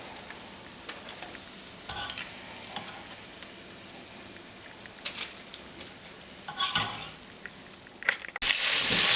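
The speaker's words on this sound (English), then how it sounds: "while my sausage is frying" Soft sizzle of sausage frying in a pan with scattered clinks and scrapes of utensils, ending in a sudden loud burst of hissing.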